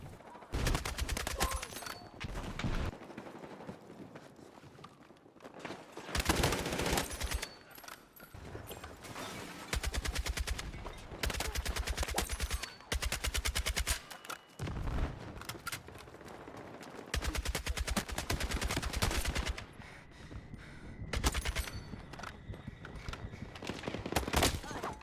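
Bursts of automatic fire from the SOR 556 Mach 2 assault rifle in a shooter video game, several sharp rapid volleys separated by short quiet gaps, loud and close.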